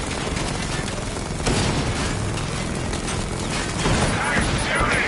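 Gunfire from the video game Batman Arkham Knight forms a dense, continuous roar of rapid shots and booms, heavily layered and loud without a break from start to finish.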